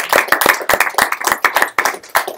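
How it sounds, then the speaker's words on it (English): A small audience claps after a capstone project presentation, a sparse handful of people producing loud, distinct individual claps in an uneven rhythm, close by. "You can clap."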